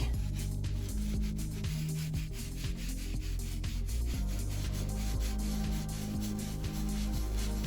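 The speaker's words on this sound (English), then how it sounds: "Clean area of the microfiber cloth and just again wipe around it." A microfiber cloth wipes around a dirty leather steering wheel in repeated rubbing strokes, close and dry-sounding, with a few squeaky catches and no talking.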